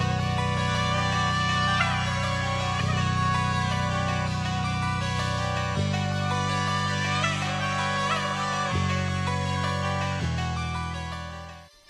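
An ambient music sample with vintage-style processing: sustained, warm chords with soft melodic tones above them, changing every few seconds and playing steadily for about twelve seconds before cutting off, with no voices.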